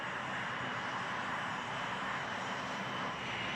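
An A-10 Thunderbolt II Warthog jet aircraft gives off a steady, loud, broadband roar that holds constant throughout, with no voices.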